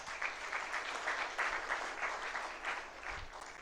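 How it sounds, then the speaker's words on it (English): An audience at the C2C Summit 2022 opening ceremony in Serena, Dar es Salaam applauds with steady, dense clapping from a large crowd, even in level throughout. "Can we clap our hands?"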